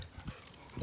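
A dog whimpers softly indoors, two faint, brief whines at the start and end of a short, quiet moment.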